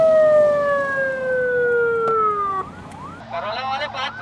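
An ambulance siren wails on a busy road, a loud close tone sliding slowly downward and then breaking into a faster warbling pattern, with traffic noise underneath.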